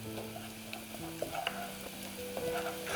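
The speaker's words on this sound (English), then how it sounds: "really give that a stir so it doesn't stick to the bottom of the pan and it doesn't burn" Peas and spices stirred in a pan over medium heat, a steady low sizzle of frying under a spoon scraping and clinking against the pan bottom, close and continuous with no voices.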